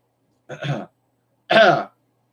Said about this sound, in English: Sorry about clearing my throat.